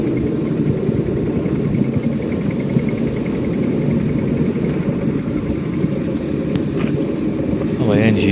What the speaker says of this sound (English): The engine's handling the track without any problems. The front bogie is guiding okay, and the engine sounds in good order.